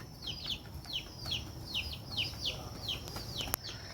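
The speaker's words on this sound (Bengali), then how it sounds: "এখানে বড় বড় মুরগি, দেশি মুরগি" Native chickens at a village chicken house give a run of a dozen or so short, high, rising-and-falling peeping calls in quick succession, moderately close, over a low background rumble, with one sharp click near the end.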